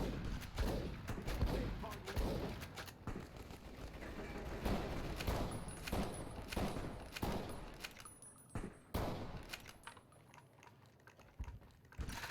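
Sustained gunfire from Securitron robots in the video game Fallout: New Vegas, a dense stream of rapid shots and bursts running for about twelve seconds at steady loudness, with no talk over it.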